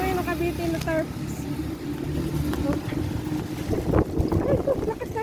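Strong wind buffets a microphone during a bicycle ride along a street, a steady low roar with gusts that swell near the end, with a voice speaking over it.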